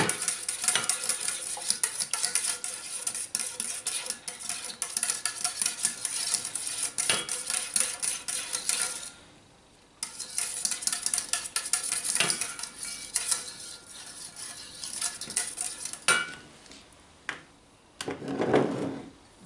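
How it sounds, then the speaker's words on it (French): Spoon stirs a pan of strawberry candy syrup for panna cotta, a steady close scraping and swishing with brief pauses and a light clink near the end. "On remue."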